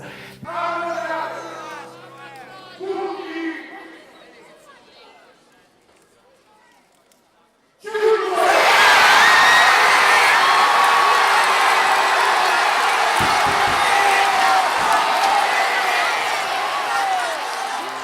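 At the Arezzo joust, a crowd bursts into shouting and cheering. Quieter voices and tones come first, then a sudden, loud, sustained roar of many people.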